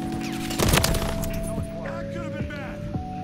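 An UMP45 submachine gun in Call of Duty MWIII fires a rapid, loud burst, followed by several sharp single reports and clinking sounds. Someone talks underneath.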